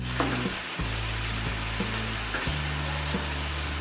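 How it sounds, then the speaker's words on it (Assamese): Fish curry gravy sizzling hard in a hot pan as water is poured in, a dense loud hiss with a few clinks and stirring knocks, a low rumble underneath, and no talking. "এতিয়া আমি অকণমান পানী ঢালি দিছোঁ"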